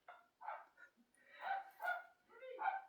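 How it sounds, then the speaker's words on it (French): Several dogs bark in a row of short, distinct barks and yips at moderate distance, fairly quiet and separated by brief pauses. "Ils sont trop mal élevés, ces chiens. À chaque fois qu'il y a quelqu'un qui passe, ils sont là à aboyer pendant 10 minutes."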